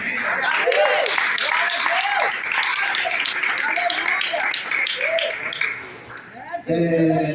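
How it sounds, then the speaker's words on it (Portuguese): A church congregation at a worship service claps together, with voices calling out over the steady applause before it briefly dips and a loud voice rises near the end. "Você pode aplaudir a palavra?"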